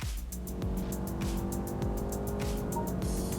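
2025 BMW 520i M Sport accelerating hard with its boost function engaged, a steady engine drone with rising whine heard from inside the cabin.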